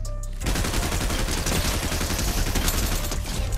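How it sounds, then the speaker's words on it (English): Rapid, sustained SMG gunfire in the Fortnite video game, loud and dense with overlapping shots after a brief quiet start, continuing without a break. "the SMG sounds a bit different"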